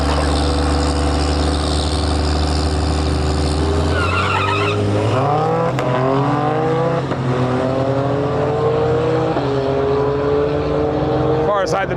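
An old Dodge drag racing car with big rear tires idling loudly at the line, then launching with a rising, shifting engine roar and tire screech, a commentator talking over it.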